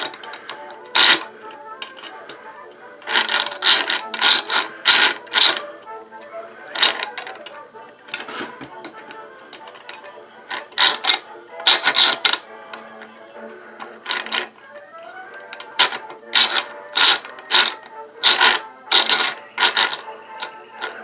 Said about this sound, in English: You can actually see the grinding burrs turning in there.